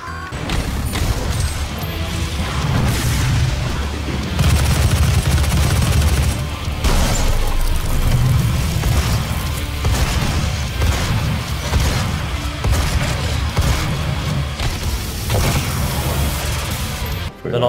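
Dense barrage of explosions and gunfire in the Rust survival game as raiders blow into a base, continuous booms and crashes layered throughout with occasional talk over the top.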